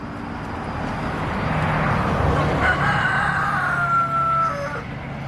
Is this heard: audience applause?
no